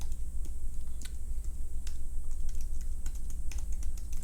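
Email addresses typed on a computer keyboard: rapid, close, irregular key clicks over a steady low hum, continuing throughout without speech.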